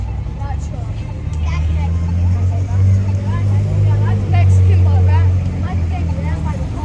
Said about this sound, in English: It's the truck again.